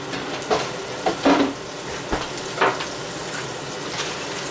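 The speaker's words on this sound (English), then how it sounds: "I'm going to wipe this out and throw the butter in here" Butter sizzles and melts in a hot pan for a T-bone steak breakfast, a steady frying hiss broken by a few scraping, clinking pan sounds up close.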